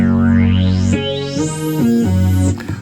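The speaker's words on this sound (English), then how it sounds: "a analog sound here like this" Virtual analog lead patch on a Kurzweil K2700 synthesizer, playing a short phrase of sustained buzzy notes with pitch changes and a sweeping filter, loud and alone with no talking.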